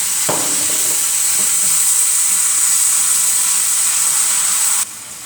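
Chicken and prawn stir fry with sweet chili sauce, garlic and ginger sizzles loudly and steadily in a hot pan, a continuous bright hiss with a few soft stirring knocks early on, cutting off sharply near the end.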